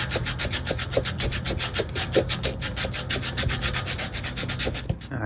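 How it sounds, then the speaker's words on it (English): Sandpaper scrubbing a leak spot on a Carrier rooftop unit condenser coil at a U-bend, rapid steady back-and-forth rasping strokes, loud and close, continuous throughout. "start cleaning up the leak spot with sandpaper"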